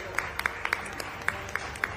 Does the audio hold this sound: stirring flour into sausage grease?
no